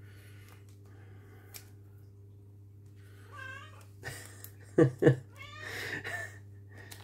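A female cat meows insistently for food indoors, two loud close calls standing out over a steady low hum, with someone speaking briefly nearby.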